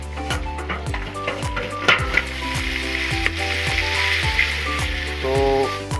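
Fish frying with tomato crackles in a loud, steady sizzle, with a repeating rhythmic mechanical pulse running underneath the whole time.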